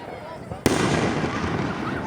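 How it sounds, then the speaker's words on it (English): Fireworks bursting on the Fourth of July: one sharp, loud blast followed by a dense, sustained crackling roar of many overlapping explosions. "Even my phone, even my camera quality can't stand the greatness of these fireworks."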